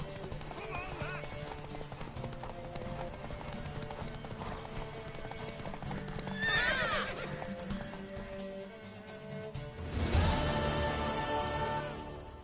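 A horse gallops with steady clip-clop hoofbeats and whinnies in The Witcher 3, under music and talking, with a louder surge of hooves and a sharp neigh near the end.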